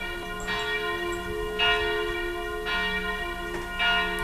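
Church bells ring out in a steady sequence, four resonant strikes spaced about a second apart, each with a long, shimmering ring that overlaps the next.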